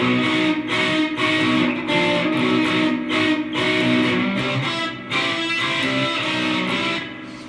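Distorted electric guitar strumming chords continuously, switching back and forth between shapes with brief dips where the hand moves.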